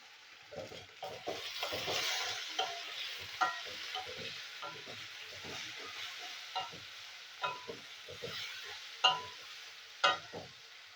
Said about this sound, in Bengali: আলুটা একটু আমি ভেজে নিচ্ছি।